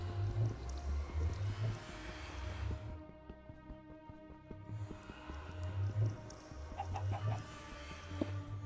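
Clucking chickens and a rooster in the Minecraft Stoneblock modpack, a few repeated low clucks in bursts that pause briefly around the middle before resuming, heard fairly close over a steady game ambience.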